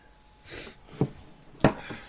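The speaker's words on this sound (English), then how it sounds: "Excuse me, folks, for the sniffles." A few short sniffles and a sharp nasal snort close to the mic, with soft breathing between them and no speech.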